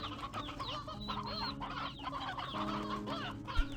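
Hens in the video game Slime Rancher 2 cluck steadily in overlapping chatter, a dense flock-like murmur at low-to-moderate level without speech.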